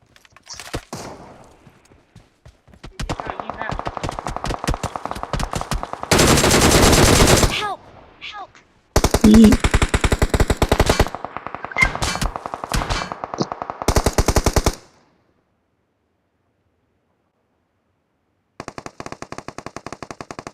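Gunfire in the mobile battle game PUBG Mobile, loud rapid automatic bursts in several long stretches, broken by short pauses and a near-silent gap before a final burst.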